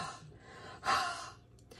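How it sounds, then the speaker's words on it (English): A person breathes onto a rubber stamp to moisten it, a soft breathy huff that swells once near the middle and then fades, quiet and alone. "So I'm going to breathe on this because I feel like it's been out for a little bit, and we call it huffing."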